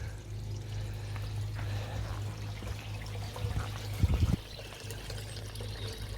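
Water flows steadily from the pipework of a koi pond, producing a continuous, fairly quiet pouring rush that briefly swells louder near the end.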